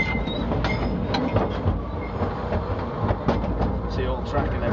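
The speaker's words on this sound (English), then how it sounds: "The train driving in." A colliery coal train at Kellingley Colliery rumbles along with a steady low roar and faint rail clatter, while people talk over it throughout.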